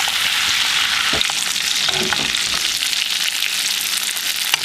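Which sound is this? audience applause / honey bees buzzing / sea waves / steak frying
steak frying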